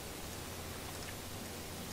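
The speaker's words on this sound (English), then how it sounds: "But it's still raining." Steady rain in a video game with a zombie setting, an even, dense hiss of falling drops with no voices, filling the short stretch at a quiet level.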